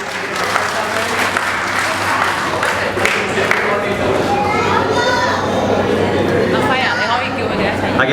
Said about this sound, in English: Can we have one large round of applause for them